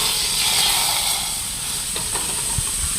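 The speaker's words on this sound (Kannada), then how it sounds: "ನಮ್ದು ಒಗ್ಗರಣೆ ಹಾಕೋದು ಈ ನೋಡಿ ಹಾಕ್ತೇನೆ ಈಗ ನೋಡಿ ಒಳಗೆ" Hot tempering is poured into a pot of Muslim-style dalcha lentil stew and sends up a loud, broad steamy hiss that slowly fades, with a few faint knocks near the end.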